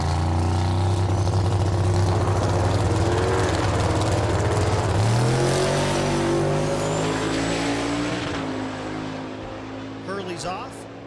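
A drag racing car launches hard off the line at a dragstrip, its engine a loud, rising roar that climbs in pitch for several seconds, then fades as it pulls away, with announcer talk over it.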